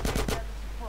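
Three quick gunshot bursts in GTA San Andreas Definitive Edition, loud and close, then fading into a short quiet tail.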